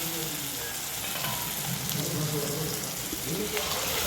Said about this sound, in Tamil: நம்ம அரைச்சி வச்ச தேங்காய் ஊற்றிக்கலாம்